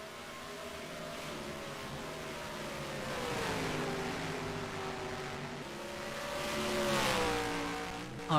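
Race cars circling Watkins Glen International in a racing game, several engines droning and shifting pitch at middle distance, swelling as cars pass, with no talk over them.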